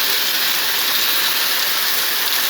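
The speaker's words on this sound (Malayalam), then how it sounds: "ശക്തമായ മഴയും ഇടിയും മിന്നലുമൊക്കെ അനുഭവപ്പെടുന്നു." Heavy rain pours on the MC road near Sadanandapuram by Kottarakkara, a loud, steady broadband wash with no distinct thunderclap or voices.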